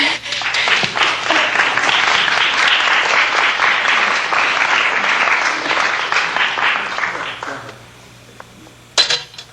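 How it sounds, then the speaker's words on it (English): A live audience at a stand-up monologue claps loudly in a sustained burst of applause lasting about seven seconds, then dies away into quiet, with a brief clatter near the end. "will you clap real loud?"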